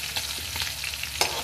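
Garlic and chillies frying in a pan for egg curry, the garlic turning golden: a steady close sizzle with faint crackles and a few sharper spatters, heard alone without talk.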